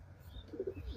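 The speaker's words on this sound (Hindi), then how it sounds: "शाहजहांपुरी कबूतर है और बहुत रेयर ब्रीड है" A rare-breed Shahjahanpuri pigeon gives a soft, low coo, brief and close, against a quiet background.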